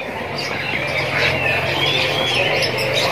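Many caged canaries in a well-stocked bird shop chirp and trill together, a dense continuous chorus of bright overlapping tweets close by, without speech.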